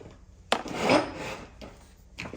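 A fender plug popper screwdriver pries a part free on a Chevy pickup during a hydroboost brake conversion, giving a sharp scrape followed by a sustained grinding rub and a few short scraping bursts up close.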